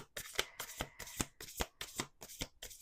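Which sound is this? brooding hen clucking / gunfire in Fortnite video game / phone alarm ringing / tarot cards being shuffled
tarot cards being shuffled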